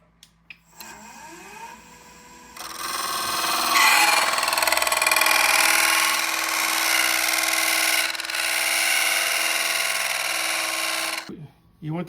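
A wood lathe spins up to about 900–1,000 rpm on a Crush Grind peppermill blank, then a tool cuts a small groove, giving a loud steady whir with cutting noise over roughly eight seconds before winding down; a voice briefly talks near the start.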